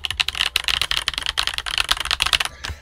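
Typing on a Redragon K656 Garen Pro keyboard fitted with 1.2 mm keycaps: rapid, close, crisp keystrokes in an even clatter that stops abruptly near the end.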